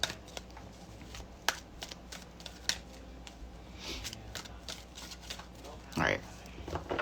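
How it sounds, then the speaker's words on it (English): Tarot cards are shuffled by hand in quick, light riffles and soft slaps, close and fairly quiet, with brief irregular bursts. "I'm going to shuffle for another second"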